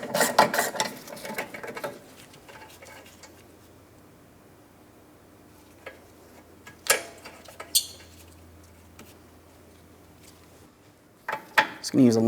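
A socket wrench ratchet clicks in short bursts while removing a rear brake bracket bolt on a Mitsubishi Outlander, with a few metallic clinks and pauses between spells of turning, close up.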